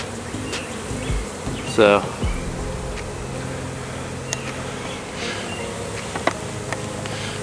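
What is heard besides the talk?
swarm of honey bees buzzing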